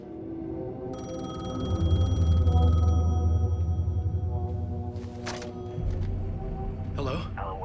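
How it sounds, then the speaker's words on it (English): A payphone rings in the video game Alan Wake II: a bright, sustained metallic ring lasting a couple of seconds, followed by softer clicks and rustling. "The payphone was ringing."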